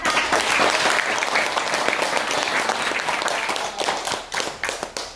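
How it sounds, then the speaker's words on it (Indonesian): Audience applause at a regional leaders' gathering in Yogyakarta: a dense burst of clapping from a crowd, sustained and fairly loud, thinning toward the end with a few separate claps. "Tepuk tangan dulu untuk teman-teman"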